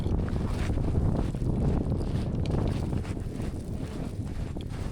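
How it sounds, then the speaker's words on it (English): Strong wind roars and buffets continuously at a hiking campsite, surging in rough gusts close to the microphone with no voices. "It is quite windy, gusting pretty aggressively."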